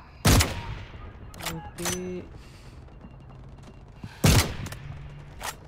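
An AWM sniper rifle fires two sharp, loud shots roughly four seconds apart in the video game Delta Force, with bolt-action mechanical clicks between them and someone talking briefly.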